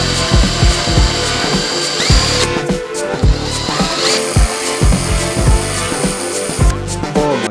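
A power drill bores into the wood of an old whiskey barrel, loud and close, its motor whining under rhythmic grinding bursts as the bit bites repeatedly.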